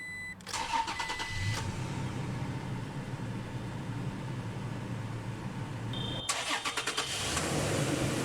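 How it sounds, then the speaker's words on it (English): A 2020 Toyota Tacoma SR5 Double Cab pickup cranks briefly and its engine catches, followed by a long stretch of quiet idle. Near the end a second burst of higher mechanical whirring and chiming rises, heard close from inside the cab. "let's go ahead and start the engine."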